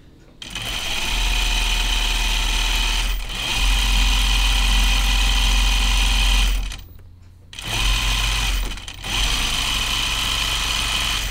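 A sewing machine runs close and loud in long continuous bursts with a steady mechanical whir, pausing briefly twice before starting again.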